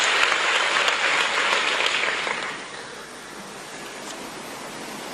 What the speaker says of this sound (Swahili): Tumpigie makofi mengi sana sana